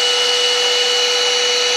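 A vacuum cleaner runs loudly and steadily from start to finish, its high-pitched motor whine and rushing airflow holding constant with a sharp tonal hum on top.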